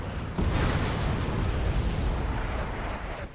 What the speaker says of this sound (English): Big explosions.